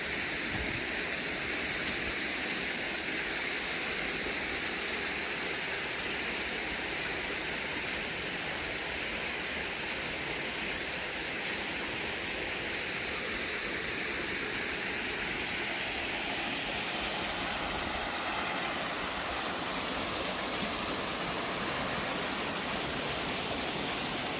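Artificial waterfall built on the grounds of a Buddhist temple, a steady broadband rush of falling water that continues evenly and fairly close, with no voices over it.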